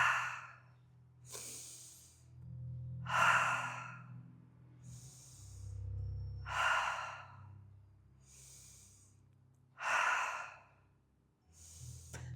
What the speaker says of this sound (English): So I'm breathing out.